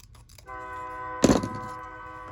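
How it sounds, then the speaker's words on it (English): A sustained train horn blares over rumbling, with a loud burst of noise in the middle, heard from a short distance. "here comes the choo-choo train."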